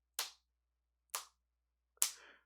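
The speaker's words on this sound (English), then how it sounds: "he's clapping slowly" Three slow, sharp claps in The Great Ace Attorney Chronicles ring out alone, about a second apart, crisp and clear against silence.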